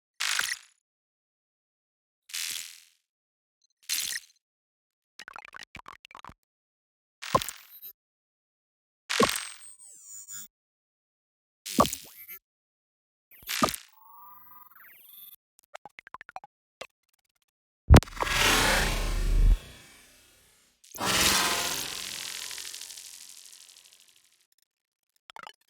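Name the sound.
UI sound effects with granular grain smearing variations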